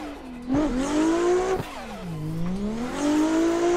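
A Toyota Supra in Assetto Corsa climbs uphill in third gear on Evergreen Raceway, Pennsylvania: the engine drones and revs in rising and falling sweeps, with a couple of sharp shifts or bumps and a faint tire whine.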